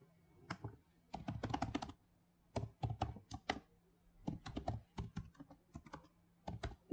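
Someone types an email ID on a computer keyboard in quick bursts of soft, close key clicks, separated by short pauses, in a quiet room.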